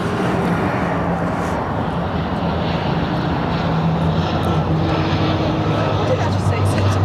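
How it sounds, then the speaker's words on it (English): A small turboprop airplane flying near Heathrow Airport, with a loud, steady engine drone that holds for several seconds. "Go on the little turboprop."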